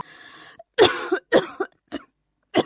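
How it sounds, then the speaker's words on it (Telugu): A cartoon character coughs persistently in several harsh, separate bursts, each one loud and close, with short silent gaps between them. "దగ్గు ఆగట్లేదు"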